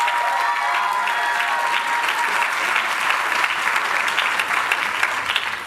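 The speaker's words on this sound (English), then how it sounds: "let's give Dean DeVoy a round of applause" Steady, sustained applause from a large commencement audience at a university undergraduate graduation ceremony, a dense even wash of clapping hands lasting the whole stretch without any speech over it.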